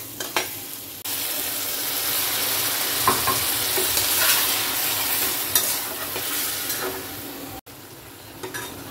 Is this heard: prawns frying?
yes